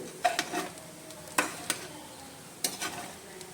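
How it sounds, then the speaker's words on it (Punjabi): Rice roasts in a pan, a quiet dry sizzle broken by a few sharp scraping strokes of a spoon stirring the grains, close and without talk. "ਅਜੇ ਅਸੀਂ ਇਹਨੂੰ 1-2 ਮਿੰਟ ਵਾਸਤੇ ਭੁੰਨਾਂਗੇ ਅੱਛੀ ਤਰ੍ਹਾਂ"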